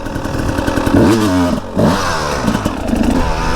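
A dirt bike fitted with a Nitro Mousse tire pulls through a mud puddle, its engine revving up in loud rising bursts with a brief dip between them, close and without speech.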